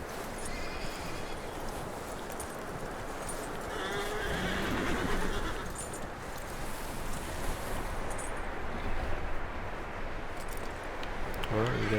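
A horse whinnies and snorts in Red Dead Redemption 2, with clip-clop hooves and rustling over a continuous outdoor game ambience and occasional voices.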